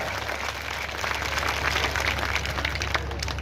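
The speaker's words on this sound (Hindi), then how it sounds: "जोरदार तालियों के साथ स्वागत कीजिए।" Crowd applause at a political rally welcoming candidates, a dense steady wash of clapping that holds at a fairly even level throughout, with a low hum running underneath.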